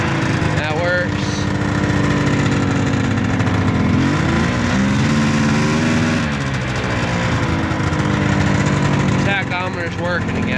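1997 Polaris Ultra SPX Triple snowmobile engine running close by, a loud uneven burble at around 1,500 rpm that rises and falls slightly, with people talking over it.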